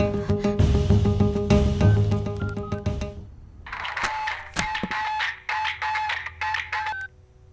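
Mobile phone dialing tones in a Hindi-dubbed Tamil film scene: a dense electronic burst for about three seconds, then a run of short repeated beeping tones with brief gaps, fairly close and clear, no talking.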